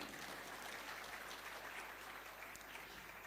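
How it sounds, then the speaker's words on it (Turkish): Applause fills the hall at an award ceremony in Tokat, Turkey, as a speaker is invited to the podium: a soft, even, continuous clapping heard from a distance. "Sayın Bayram Güvercin'i alkışlarınızla kürsüye davet efendim."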